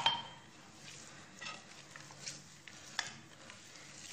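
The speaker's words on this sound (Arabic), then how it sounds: "غادي نبدا نجمع به هاد المكونات كلها جيدا" Sweet dough ingredients being stirred together with a glass of oil in a bowl, soft wet scraping and occasional utensil clinks against the bowl, close and moderately quiet with no talking.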